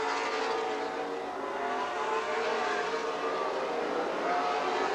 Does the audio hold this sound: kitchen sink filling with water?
no